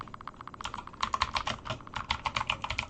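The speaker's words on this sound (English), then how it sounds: "Your keyboard is so loud." Rapid, clacky keystrokes patter in an uneven rhythm, close and distinct: someone typing briskly on a noisy computer keyboard.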